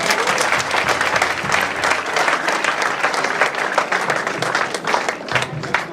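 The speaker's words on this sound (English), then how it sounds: "I think you all should give a big round of applause." Audience at a college fresher party applauding loudly and continuously, a thick crowd of clapping with faint voices and cheers mixed in.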